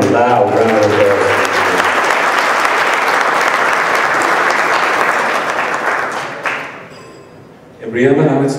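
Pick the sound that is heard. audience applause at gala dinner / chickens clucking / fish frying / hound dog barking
audience applause at gala dinner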